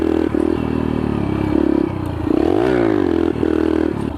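A pit bike engine revs hard with rising and falling pitch sweeps and a brief dip, close and loud, with some clattering mechanical noise underneath and no talking.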